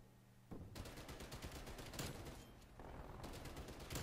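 Rapid automatic fire from a TEC-9 submachine gun in the online shooter Standoff rattles off in long, dense bursts, with a brief pause mid-way before the fast volley resumes, loud and close.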